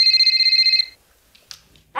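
A telephone ringtone rings loudly and close in a steady electronic pattern for under a second, then cuts off, followed by faint shuffling sounds.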